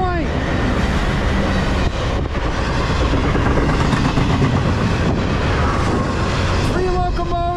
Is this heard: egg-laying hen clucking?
no